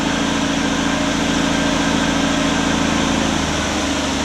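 A 1964 Chevrolet Impala engine pulls away in first gear with a loud, steady low rumble. It stays constant and close throughout.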